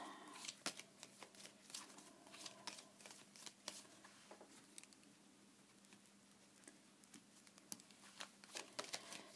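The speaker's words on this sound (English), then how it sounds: "I'm shuffling the cards." Playing cards being shuffled by hand for a yes-or-no card reading, a quiet run of soft riffling patters and flicks with irregular bursts throughout, close and alone with no voices.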